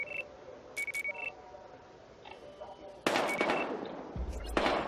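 Gunfire in the video game Battlefield Hardline comes as a burst of sharp shots and crackling bursts in the second half, mixed with electronic beeps earlier and a heavy low rumble near the end.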